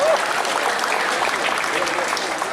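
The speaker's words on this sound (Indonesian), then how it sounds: "Tepuk tangan yang meriah dong sekali lagi buat Ama, Elkara, dan Ine" Audience applause after a poetry reading performance, a dense, even wash of clapping that holds steady at moderate loudness from start to finish, with some crowd murmur beneath.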